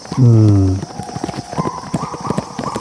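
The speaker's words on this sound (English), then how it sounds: "A horse is approaching." A horse approaching with hooves clip-clopping in a rhythmic series after a loud whinny-like call at the start, set within an adventure audio drama.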